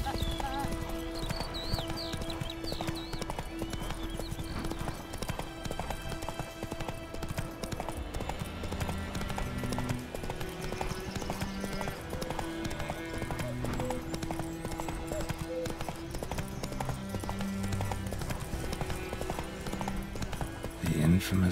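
Horse hooves galloping in the video game Witcher 3: Wild Hunt, a steady rhythmic clip-clop that continues throughout over game music and ambience, with an occasional neigh and brief voices.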